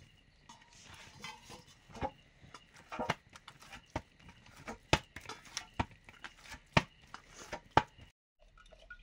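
Onions being cut in a hand chopper in a home kitchen, a series of sharp, close chopping clacks at an irregular rhythm over a low background hum, ending abruptly.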